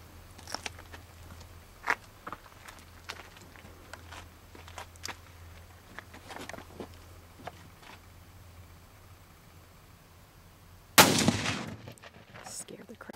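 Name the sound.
rifle gunshot from a .264 Magnum into a sand-filled ballistic model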